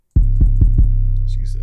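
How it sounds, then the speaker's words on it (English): Deep 808 bass in a Detroit-style beat: four loud, booming hits in quick succession, the last one ringing out into a long sustained low tone, with faint hi-hat ticks creeping in near the end. "let's get an 808 in here right now"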